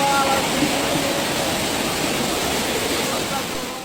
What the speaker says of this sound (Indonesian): Jalan berubah menjadi sungai.